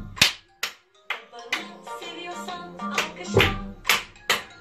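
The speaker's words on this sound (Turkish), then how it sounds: "Seviyorsan alkışla" About a dozen sharp, separate hand claps land at an uneven rhythm, close and distinct, over a quieter melodic tone in the background.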